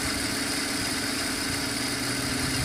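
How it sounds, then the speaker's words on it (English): A BMW engine idling with a failing charging system, a steady mid-to-low running drone that strains and labors as the alternator kicks on, close and continuous with no talk. "You can hear the engine strain when the alternator does kick on."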